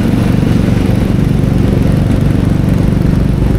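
Motorcycle engines running steadily on a flooded street during monsoon floods in Malolos, a continuous loud low rumble filling the whole stretch without talk.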